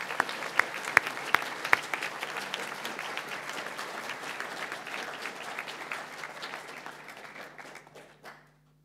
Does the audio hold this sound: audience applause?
yes